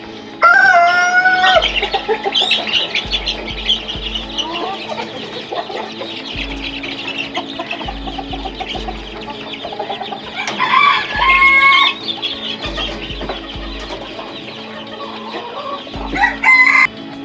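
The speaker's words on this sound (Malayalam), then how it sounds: "ഇതാണ് നമ്മളെ ബ്രഹ്മ എന്ന് പറഞ്ഞ കോഴിയാണിത്" Brahma chickens cluck and crow in a coop, with loud nearby crowing bursts repeating every few seconds over steady clucking and background hum, and no talking.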